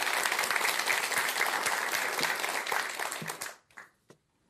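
A Buddhist temple congregation claps for the great monk, a thick, sustained round of applause that tapers near the end into a few scattered final claps and then quiet.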